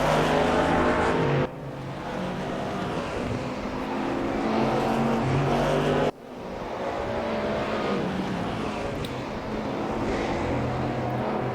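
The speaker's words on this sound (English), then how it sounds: "watch as this Mustang just pulls away on the straight" A Mustang race car in a racing video game at Laguna Seca roars loud and continuous down the straight, with two brief drops in pitch and level where it shifts gear. No one talks.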